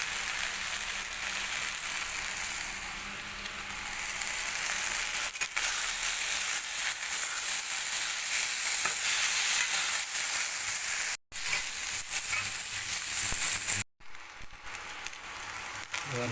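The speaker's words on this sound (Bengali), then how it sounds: "সাথে দিয়ে দেবো এবার কুচো করে রাখা পেঁয়াজগুলো, সাথে দিয়ে ভালো করে ভেজে নেব" Chopped onions fry in a pan with a loud, steady sizzle and hiss, broken by two brief silent gaps near the end.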